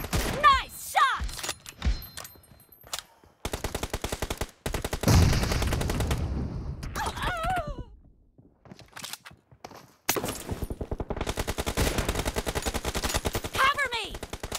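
Bursts of automatic gunfire in a PUBG Mobile domination match crack out in rapid repeated volleys with short gaps, mixed with game effects and footsteps-like thumps.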